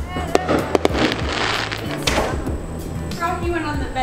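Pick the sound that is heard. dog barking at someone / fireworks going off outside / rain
fireworks going off outside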